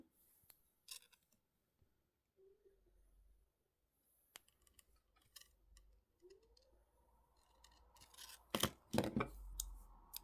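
Jewellery wire being snipped with cutters while forming a simple ring, giving sparse sharp clicks and small ticks at close range, with a tight cluster of louder snips near the end in an otherwise quiet room.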